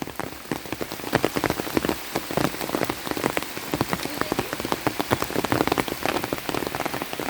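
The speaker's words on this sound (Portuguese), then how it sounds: "Olha, pessoal, aumentando de novo a chuva." Heavy rain in Pará pours steadily onto surfaces, a dense, close hiss packed with sharp, crackling drops, loud and continuous throughout with no voices.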